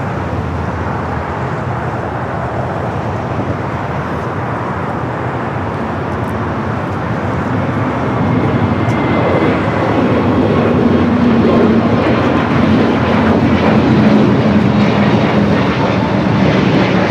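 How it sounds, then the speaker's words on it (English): A Volaris Airbus A320neo bound for San Salvador takes off from the south side of LAX, a loud sustained jet engine roar that swells steadily in intensity as the aircraft accelerates. "Next takeoff here on the south side of Volaris heading to San Salvador in an A320neo"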